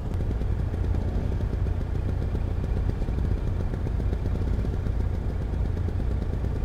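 Vespa scooter engine running in traffic, a continuous close buzzing drone with rattling texture that holds steady throughout.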